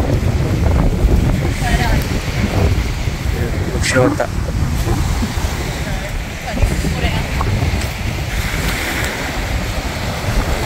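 Wind at Maraetai Beach in South Auckland, a steady buffeting rush over the microphone blended with surf, continuous and fairly loud, with people talking faintly now and then.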